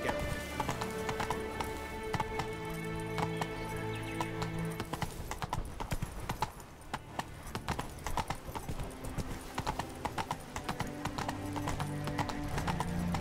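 Geralt's horse Roach from The Witcher 3: Blood and Wine gallops with loud, rapid hoofbeats that carry on steadily throughout, joined by occasional snorts or whinnies and layered game sounds.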